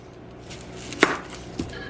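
A knife chops vegetables on a board for a veggie meatloaf, giving two distinct cuts about half a second apart, close and moderately loud over a faint background hiss.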